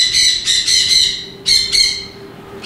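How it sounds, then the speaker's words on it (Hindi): Two grey parrots give sharp, loud squawks close by, in repeated harsh bursts with short gaps between them. "मैं देख रहा हूँ यहाँ पर 2 ग्रे पैरेट मौजूद हैं"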